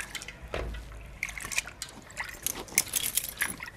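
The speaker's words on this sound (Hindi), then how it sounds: "अब इसको थोड़ा सा हाथ से ऐसे ऐसे हम चावल बनाने के लिए धोते हैं वैसे धो लेंगे" Moong lentils being washed by hand in a bowl of water: close, irregular sloshing, trickling and dripping as fingers stir and rub the grains, with no talk.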